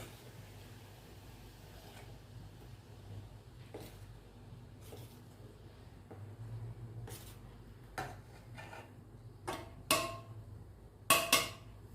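A pot of boiling water with flour being stirred in for puran modak dough; sharp utensil clanks and scrapes against the pot, sparse at first, then louder clusters of knocks near the end.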